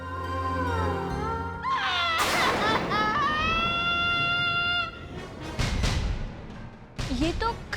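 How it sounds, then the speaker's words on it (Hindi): A woman cries amid a busy dramatic scene, with wailing, sobbing vocal tones rising and falling over background music and bumps, fairly loud and continuous, with other voices briefly heard near the end. "ये तो खाला के रोने की आवाज है ना?"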